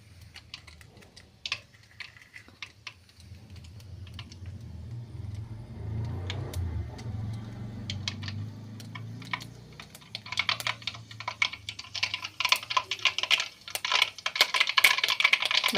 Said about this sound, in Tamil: நானும் எண்ணெய் காஞ்சிருக்குப்பா, கடுகு போட்டுக்கலாம்.